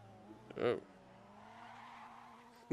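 Car tires in VRChat give two short, sharp skidding squeals, one early and one at the very end, with a low motor hum and quiet speech between them.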